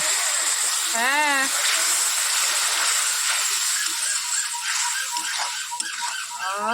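Water splashes into a pan of sizzling Bengali egg curry (dimer kalia), a steady hiss and gush filling the whole stretch while someone talks over it.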